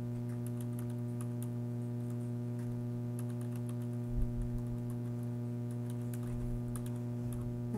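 Computer keyboard typing during word processing, quiet irregular clicks and taps scattered over a steady low mains hum.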